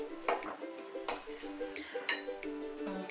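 A fork fluffs cooked couscous in a pot: a few light metallic clinks and scrapes at an irregular pace over a soft background hum, close and quiet.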